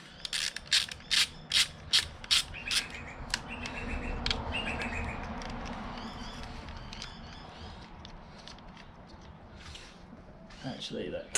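A 10mm bolt being undone in a car engine bay with a ratchet, a rapid run of close, sharp clicks, then quieter shuffling and a few more clicks at the end.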